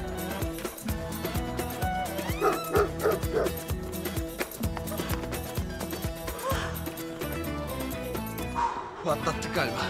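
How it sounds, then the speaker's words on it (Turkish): A dog barks and yips repeatedly in a tense scene, its barks mixed with music and excited voices throughout. "tutsana şu köpeği"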